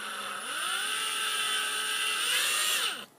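An electric power tool motor runs after oiling, a high steady whine that ramps up, holds for a few seconds, then quickly winds down and stops.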